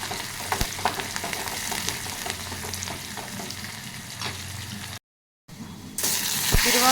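Curry leaves and dried red chillies sizzle in hot oil, a steady close frying hiss with occasional pops, briefly cut to silence before a louder burst of sizzling resumes.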